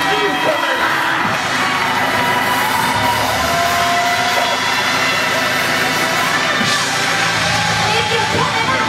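A church congregation at an anniversary service screaming together, a loud sustained roar of many voices filling the room for several seconds.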